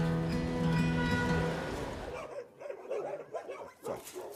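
A street dog barks a few times and whimpers after a stretch of steady droning noise.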